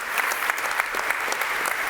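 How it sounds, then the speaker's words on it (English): An audience at LAUNCH Festival 2016 applauds after a startup presentation, a dense, steady patter of clapping filling the room. "Big round of applause."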